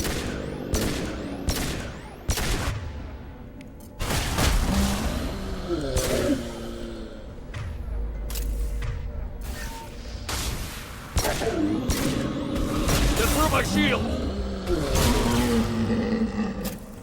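Phalanx pistol gunfire in the video game Mass Effect 2, sharp loud shots fired in irregular bursts over a roaring, growling enemy and busy battle noise.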